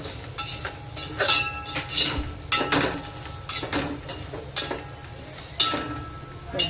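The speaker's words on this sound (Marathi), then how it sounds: "आपला घरगुती मसाला, लाल तिखट टाकलं तरी चालेल. चांगलं परतून घेऊया." Homemade masala and red chili powder being sautéed in a pan, with repeated scraping stir strokes over a soft, continuous sizzle, close and uneven in rhythm.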